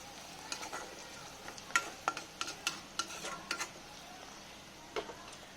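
Onions being stirred in a frying pan for a Kerala-style chicken roast, a series of sharp spatula scrapes and clicks against the pan over a quiet, faint sizzle, close by.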